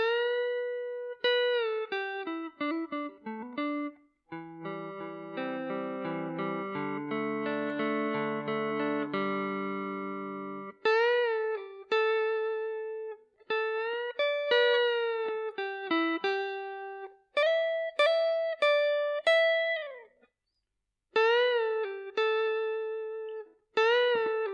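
Electric guitar plays a song's coda, with bent single-note melody lines, a stretch of sustained chords in the middle and more bends and held notes afterward, close and clean, played solo.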